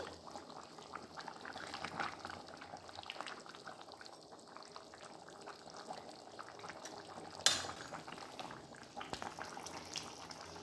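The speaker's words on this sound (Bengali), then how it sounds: "তো ঝোলটা ফুটে গেছে" Thin fish broth simmering in a pot, a soft continuous bubbling with faint liquid movement and a single brief clink of a utensil partway through, quiet and without speech.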